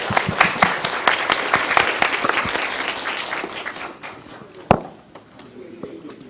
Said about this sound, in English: let's give us and all of the panelists a big round of applause,